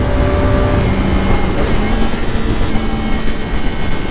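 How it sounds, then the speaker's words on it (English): A CFMOTO 675 SR-R supersport motorcycle at speed gives a loud, steady induction roar with a sustained engine drone, close and buffeted by heavy wind noise. "I don't know if you can hear that induction bar"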